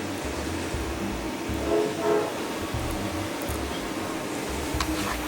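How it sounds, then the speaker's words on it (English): Model train running on freshly laid track, a low, uneven rumble with rhythmic pulses and a brief tonal whine partway through, heard nearby and alone without talk. "my train just made a noise, or breaking the track in, as they would say."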